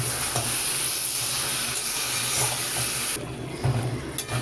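Vegetables and lentil dumplings (bori) fry hard in a pan as they are stirred, a loud continuous hiss that drops suddenly toward the end, followed by a few scrapes and clatters of the spoon.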